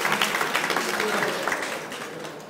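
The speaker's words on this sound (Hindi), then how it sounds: "ताली बजानी चाहिए इनके लिए।" Applause from an audience at a Jain religious teaching session, a dense burst of hand clapping that starts loud and gradually thins out, with voices mixed in.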